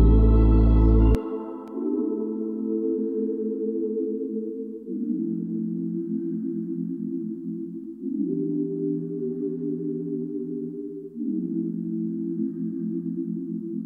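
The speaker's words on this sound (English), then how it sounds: "So I just made pretty basic chords. They sound like this." Sustained synth pad chords from the Analog Lab Brown preset move through a slow, simple progression, each chord held about three seconds with a smooth, vocal-like tone. They play alone, steady and fairly loud, after a brief louder opening hit.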